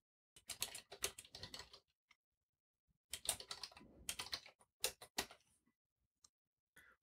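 Bursts of rapid keystrokes on a computer keyboard while typing in LibreOffice Writer on Linux, close and crisp, separated by short pauses and a few isolated key presses.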